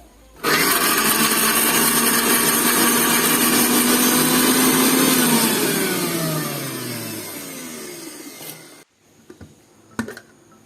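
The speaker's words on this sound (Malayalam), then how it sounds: "ഇതൊന്ന് നമുക്ക് മസ്റ്റ് ഒന്ന് മിക്സിയിലൊന്ന് ഗ്രൈൻഡ് ചെയ്ത് കൊണ്ടുവരാം" A kitchen mixer grinder crushes green chillies, garlic and ginger, a loud continuous whirring roar that runs steadily, slows and falls away, then stops, with a couple of faint clicks after.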